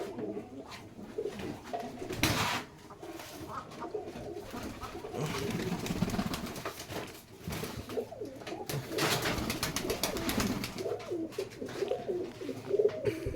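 Pigeons kept for sale at a home coo continuously, close and fairly loud, with several birds' throaty calls overlapping in a rolling, uneven rhythm and no talk.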